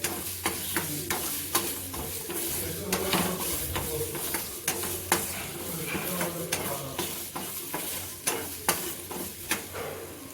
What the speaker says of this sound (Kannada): ಇದ್ರ ಜೊತೆನ ನೋಡಿ 2 ಟೊಮೆಟೊ ಹಾಕ್ಕೊಂಡ್ಬಿಟ್ಟು ಫ್ರೈ ಮಾಡ್ಕೊಳ್ತೀನಿ